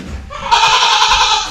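A goat in a barn stall gives one loud, sustained bleat lasting about a second, close by, after a quieter moment of low background rumble.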